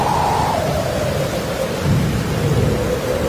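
A rain and thunder storm effect: heavy steady rain hisses throughout while low thunder rumbles and rolls beneath it, loud and continuous with no voices.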